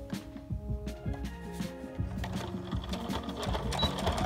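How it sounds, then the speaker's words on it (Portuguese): A domestic sewing machine stitches fabric squares together for a chair cover, its fast mechanical whirring running close and steady in uneven bursts with brief pauses. "daí eu pego e costuro, ó"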